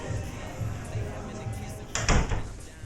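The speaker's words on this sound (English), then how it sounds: "you mind keeping that door closed?" A door shuts near the end with a short thud and rattle, following a stretch of quiet room noise, and voices murmur softly around it.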